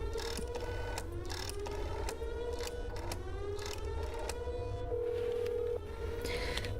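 Telephone keypad tones and a receiver being hung up in the horror game That's Not My Neighbor, a run of short beeps followed by a mechanical clunk and a steady tone over a constant low hum.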